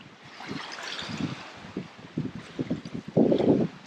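Wind picking up around a sailboat cruising the Aeolian Islands, a steady breathy rush across the microphone with low gusty buffeting that swells and thumps irregularly, strongest near the end, with water sloshing beneath.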